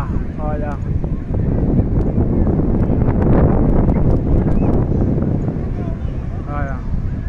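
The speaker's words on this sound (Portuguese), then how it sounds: "tá ventando muito" Strong wind on a beach at Itamaracá buffeting the microphone in a constant loud roar, with a person talking briefly under the gusts.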